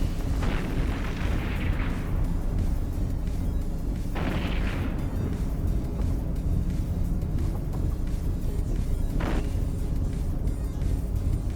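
Smart bomb blasts from ships in the space game EVE Online, several booming bursts around the start, mid-clip and near the end over a constant dense rumbling game soundscape.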